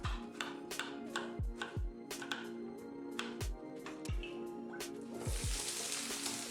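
Diced tomato cooks in a pan with a soft sizzle and moist bubbling, beneath repeated low thuds and clicks, ending in a brighter burst of frying hiss.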